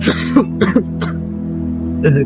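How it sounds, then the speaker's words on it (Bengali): A man coughs in short bursts, three or four rough, throaty coughs spaced across about two seconds. Each one is close and moderately loud over a steady low hum. "আপনার তো অনেক কাশি হয়েছে"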